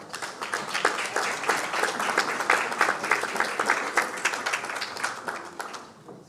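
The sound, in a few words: audience applause welcoming panelists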